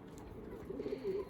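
Pigeons near the end of their moult, some wearing green rings, coo softly in a low faint drawn-out murmur over quiet room noise, with no talking.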